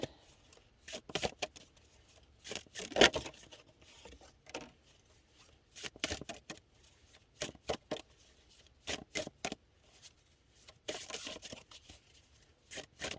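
Tarot cards are shuffled in repeated quick riffles and bursts, crisp and close, with pauses between, in an otherwise quiet setting.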